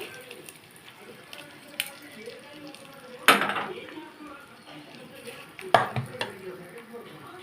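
A spoon scrapes and clinks against a pan as a tempering is added and stirred into freshly ground gongura chutney. Sharp metallic knocks stand out among soft, continuous stirring noise.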